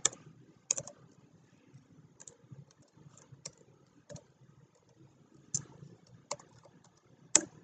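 Keys are tapped on a computer keyboard while setting up Python on Windows 10, producing sparse, crisp clicks at irregular intervals with quiet pauses in between.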